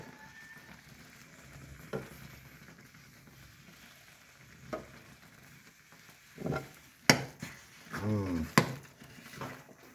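Flour is stirred into boiling water in a pot to cook Nepali dhido, with soft bubbling and scraping and a few irregular knocks and thuds of the stirring stick that grow louder toward the end.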